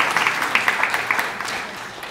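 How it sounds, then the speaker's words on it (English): An audience gives a round of applause for a quiz master, a steady patter of many hands clapping that stays moderately loud and even throughout, with no voices on top. "you can give her a round of applause"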